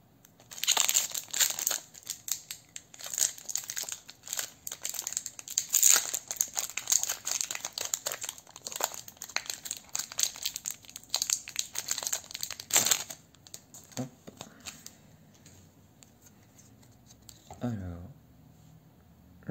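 Crinkling and crushing of a Pokémon Voltage Éclatant booster pack foil as it is opened, a dense run of close, rustling crackles that thins toward the end, with a voice talking over parts of it.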